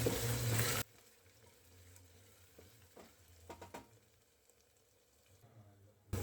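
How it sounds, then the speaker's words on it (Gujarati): Chopped onions with garlic paste sizzle in a pan for pav bhaji. A loud burst opens the scene, then a low, steady frying crackle continues with a few scattered stirring clicks before the loudness returns at the end. "હવે આપણે ડુંગળીને બે થી ત્રણ મિનિટ માટે કૂક થવા દઈશું"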